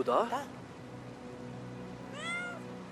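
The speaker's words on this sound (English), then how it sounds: "Yeah, it is a cat." A cat meows in the video game Brothers: A Tale of Two Sons, two distinct meows, one at the start and a softer rising one near the end, over a quiet musical game ambience.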